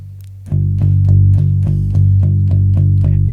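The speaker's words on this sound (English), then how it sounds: "So playing with a pick kind of sounds like this." A bass guitar played with a thin pick in a steady run of notes, each attack bright and percussive, repeating at an even pace, close and loud with no talking.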